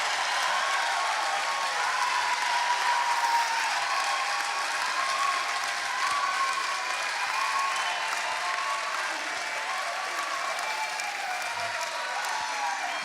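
Sustained audience applause fills a chapel in welcome of Thursday tour guests, steady clapping from a crowd with faint voices mixed in.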